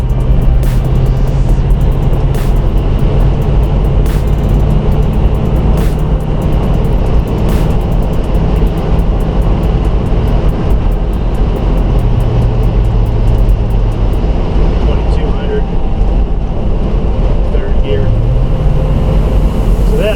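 Loud, steady engine drone from a car held at stall speed, around 2100 rpm, through a higher-stall TCI torque converter, continuous and close with a voice talking over it.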